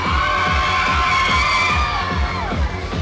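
A crowd of riders screams and whoops together on a fairground ride at the OC Fair, a sustained, loud wave with rhythmic mechanical thumping underneath.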